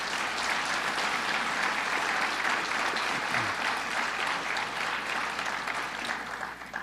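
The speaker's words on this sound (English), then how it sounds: "Let's give him a round of applause" A large audience at a university gathering with the New York governor claps steadily for a state official, a dense, even roar of hands that holds for several seconds before starting to taper.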